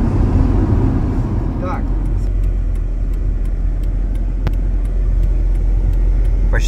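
A car drives steadily along the road toward Saint Petersburg, with a loud, continuous engine and road rumble filling the cabin and a brief spoken word over it.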